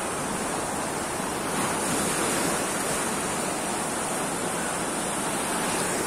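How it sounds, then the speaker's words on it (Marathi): Sea waves break on the beach at Alibag in a continuous, even, hissing roar of surf. It sounds moderately near, with no voices and no distinct single crash. "दिसल्या लाटा कशा सुंदर आहेत"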